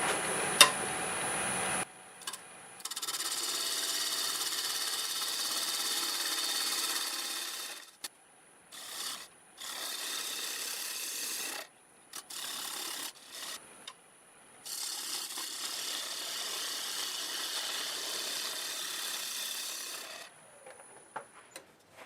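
A half-inch bowl gouge cuts sequoia heartwood on a lathe at 1,000 RPM, producing a steady scraping hiss that stops and restarts in several long passes with short gaps between.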